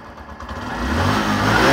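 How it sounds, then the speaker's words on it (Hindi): A 2024 Bajaj Platina 110 motorcycle's exhaust note swells as the engine revs, building from a low burble into a louder, fuller roar. "एग्जॉस्ट नोट सुनिए।"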